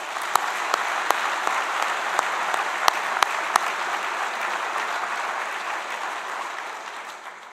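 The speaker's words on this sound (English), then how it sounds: "Let's give them a round of applause." Audience at a university honors ceremony applauds graduating students, a full, steady burst of clapping with a few sharper individual claps, fading slightly toward the end.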